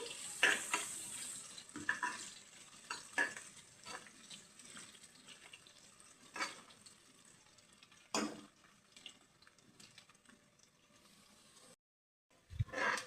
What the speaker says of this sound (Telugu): బాగా ఎర్రగా దోరగా వేయించేసుకోవాలి ఉల్లిపాయలని.